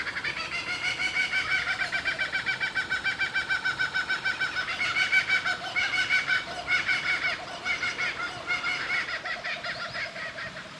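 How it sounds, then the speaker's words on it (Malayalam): A kookaburra's loud, cackling laugh rings out in rapid repeated bursts on the Coachwood Nature Trail in the Blue Mountains, Australia, rising and falling over about ten seconds with no talking. "ഈ ഒച്ച കേട്ടത് ഇവിടുത്തെ തന്നെ ഒരു കുക്കുബൂറ എന്ന് പറഞ്ഞിട്ടുള്ളൊരു പക്ഷിയാണ്."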